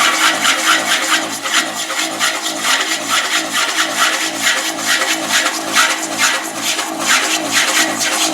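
A wood lathe gouge cuts across a large spinning wooden platter with the bevel rubbing, a close, continuous raspy shearing hiss that pulses rhythmically throughout, with no talking.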